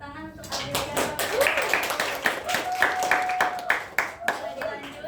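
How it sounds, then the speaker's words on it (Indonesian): A classroom audience applauds for Adriana during a micro teaching session, scattered hand claps pattering steadily for several seconds with some talk mixed in. "kita beri tepuk tangan untuk Adriana"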